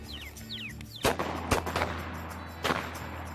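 Shotgun blasts during a quail hunt outdoors, three sharp reports spaced about a second apart over faint birdsong, each followed by a brief rumbling echo.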